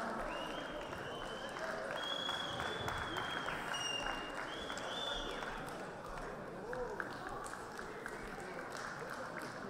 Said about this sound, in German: Applaus für unser Round Cut Girl.